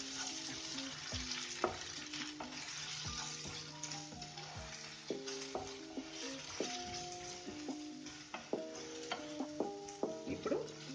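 Brinjal curry with chilli powder frying in a pan, continuous soft sizzling broken by clinks and scrapes of a spatula stirring against the metal, no speech.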